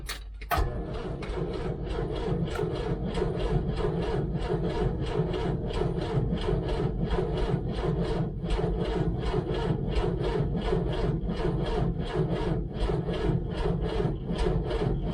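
A Land Rover Series IIa starter motor slowly cranks the engine over, producing a loud, even, rhythmic chugging that repeats steadily for about fifteen seconds without the engine catching and with no talk.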